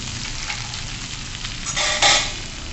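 A Malvani masala paste of ground spices, red chilli and turmeric fries in a pan for a Konkani-style jackfruit seed curry, crackling steadily up close, with a louder sizzling burst near the end.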